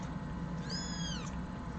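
A kitten meows once, a short rising-and-falling cry, in a playroom where kittens are being bottle fed, set against steady low background noise.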